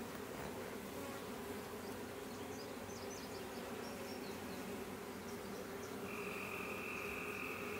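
Honey bees at a beehive give off a faint, steady, continuous buzzing drone in a quiet outdoor setting, with no voices.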